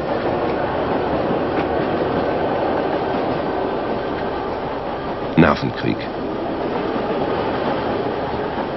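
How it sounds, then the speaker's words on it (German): A packed passenger train rolls slowly through the night in East Germany, a steady rumbling wash of wheels and carriage noise with a brief squeal midway, while a voice speaks over it. "Der Zug rollt langsam durch die nächtliche DDR."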